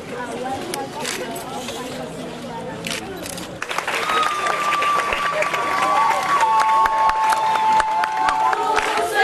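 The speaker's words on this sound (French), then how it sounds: "Une exécution magistrale fort applaudie par les administratifs d'Orange." Audience of office staff applauds a masterful performance at an orphanage evening event, clapping building midway from background chatter and voices into sustained applause, with a tonal whistle or feedback line riding over it.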